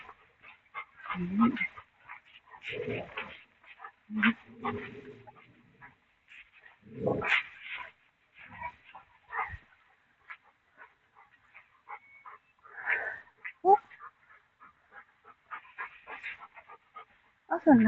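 Dogs in a residential neighborhood bark and whimper in short, scattered bursts, some near and some farther off, while people talk over them.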